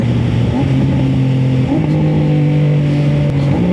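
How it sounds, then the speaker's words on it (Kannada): A Triumph motorcycle engine drones steadily and loudly up close, its pitch dropping in clear steps as it downshifts through the gears with a quick shifter, with no talk over it. "ಈಗ ನಾನು ಗೇರ್ ಡೌನ್ ಮಾಡ್ತೇನೆ ಕೇಳಿ."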